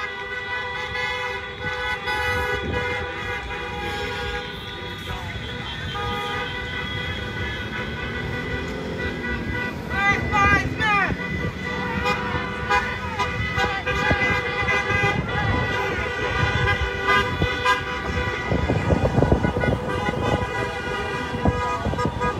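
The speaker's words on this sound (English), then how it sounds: "for the most part, it's been honks of support" Passing cars honk in support of a roadside protest in west Toledo, with repeated horn toots of varying pitch mixed with steady traffic noise and engine rumble, some honks near and loud, throughout about twenty seconds.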